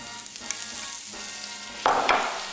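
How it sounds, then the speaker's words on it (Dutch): Butter sizzles and fries in a hot pan, a steady crackling hiss with a few sharp spits and a louder burst of sizzling near the end, close and without talk. "Boter in de pannen."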